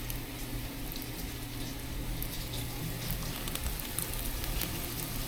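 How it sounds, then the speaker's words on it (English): Battered fish fries in hot oil, giving a soft, continuous crackling sizzle with scattered faint pops over a low steady hum. "Look at that sizzle."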